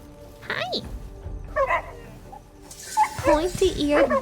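A pointy-eared bulldog in the video game Crimson Desert gives short barks and whimpery yips, mixed with soft vocal sounds and clustered near the end.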